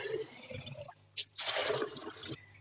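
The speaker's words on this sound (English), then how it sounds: "And then we're just going to cover them all with lots of water." Water is poured over dried beans in a ceramic bowl to soak them, with a few drips followed by a close, splashing gush that runs for about a second before tapering off.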